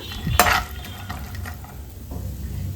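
Almonds and dry fruits with khoa fry in a pan for a Chandrakala sweet, giving a soft continuous sizzle with a sharp scrape of stirring near the start and quieter stirring strokes after.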